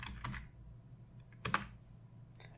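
Typing on a computer keyboard during Windows setup: a few sharp clicking keystrokes in short bursts, quiet and close, with pauses between, no talk.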